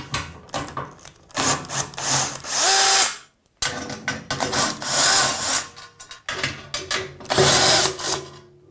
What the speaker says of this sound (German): als nächstes lösen wir hier unten erstmal die Schrauben.